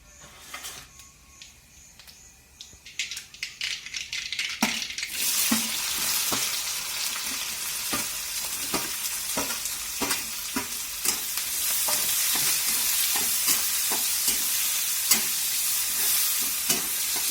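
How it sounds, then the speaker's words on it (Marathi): Cumin and mustard seeds sizzle in hot oil for a Maharashtrian pithla tempering, a faint start swelling after a few seconds into a steady, loud crackling hiss with scattered pops, close and with no voice. "मी सुरुवातीला जिरे मोहरी फोडणी देऊन घेणार आहे"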